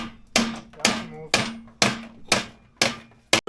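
Hammer blows on aluminum suspension rails of a Scorpion Bullwhip, seven sharp metallic strikes at a steady, roughly half-second rhythm, loud and close, each ringing briefly before the next, with a faint hum beneath.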